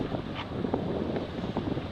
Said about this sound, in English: So yeah, we're sailing now.